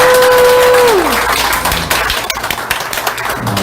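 Applause from a crowd at a Korean party members' education meeting in Gangwon, greeting the provincial chairman's wife: dense, loud clapping filling the room, with a brief tone sweeping down at the start.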